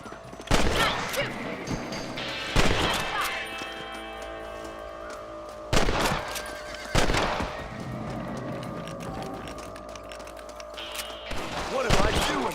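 Gunfire in the video game Red Dead Redemption: several loud, sharp shots spaced a few seconds apart, each with a ringing tail, over game ambience with voices talking.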